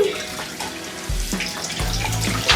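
Water runs from a tap while a child's hair is rinsed at home, a gushing, splashing flow whose pitch and loudness shift in bursts as the stream is moved and poured.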